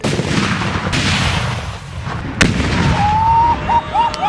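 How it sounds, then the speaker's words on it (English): A rocket launcher fired at an outdoor range in Cambodia gives a loud, sharp blast amid heavy rumbling background noise, followed by a whistling, wavering tone. "if you're gonna go shoot a rocket launcher in Cambodia, you should probably get it on tape"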